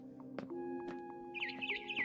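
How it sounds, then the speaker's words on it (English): Barn swallow chirping outside a window in the video game What Remains of Edith Finch, quick bright twitters and short chirps repeated over a soft tonal background, fairly quiet. "Then I heard chirping outside my window."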